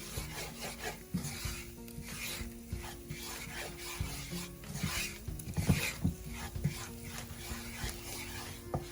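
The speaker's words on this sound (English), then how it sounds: "give it a quick stir" A spoon scrapes and rubs around a pot of dal makhani in quick, repeated stirring strokes, close and fairly quiet with faint clinks.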